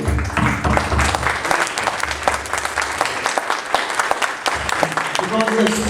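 Audience applause for music students on stage at a school performance, loud sustained clapping from a crowd, with a voice talking over it.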